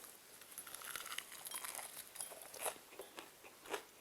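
Bites into a crispy garlic-seasoned snack coated with cornflake seasoning crackle up close, with a series of sharp, irregular crunches over quiet chewing and no talk.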